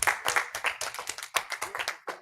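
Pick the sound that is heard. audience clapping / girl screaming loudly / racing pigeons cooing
audience clapping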